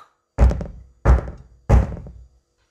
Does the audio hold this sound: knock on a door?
yes